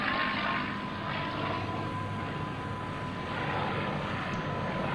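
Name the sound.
P-51C Mustang fighter plane flying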